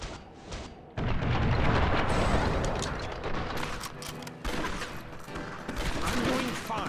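Gunfire in Red Dead Revolver on Xbox during a boss fight, loud repeated shots and booms that crackle densely after a brief quieter start, with shifting bursts throughout.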